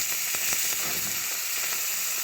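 Curry leaves crackling in hot oil during a tempering of asafoetida for a gongura, raw mango and toor dal dish, a steady bright sizzle with faint popping spits throughout, close and without speech.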